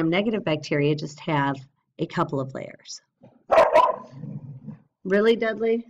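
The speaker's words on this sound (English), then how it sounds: "Excuse my dog." A dog barks indoors during a biology lecture, a loud burst of a few sharp barks between stretches of talking by a man.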